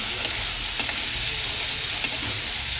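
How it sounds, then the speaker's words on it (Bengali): Masala spice paste frying in a pan makes a dense, continuous sizzle up close, broken by a few sharp spatula scrapes and taps as it is stirred, with no voices. "দেখো মশলাটা কষাচ্ছি"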